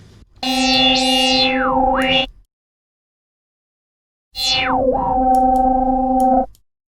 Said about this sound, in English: This one sounds much more overdriven, for example, than the Perfecto one.